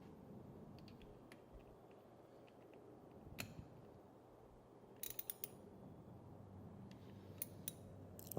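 Nuts are tightened onto the terminals of a Mercedes fuel pump, with quiet ratcheting clicks and small metallic ticks in brief clusters against a low background hum.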